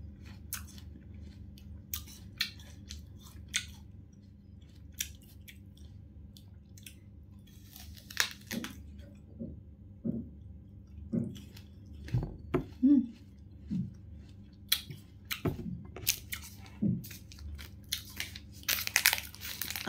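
A crisp red apple is bitten and chewed close up, with sharp crunches at the start of bites followed by irregular wet chewing crackles over a low steady background hum.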